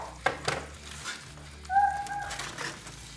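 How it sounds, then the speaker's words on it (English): Pulled pork drops into hot melted butter in a skillet, giving a quiet, soft sizzle with a few light clatters and stirring scrapes. "I'm going to add in the pulled pork that we've just pulled as well."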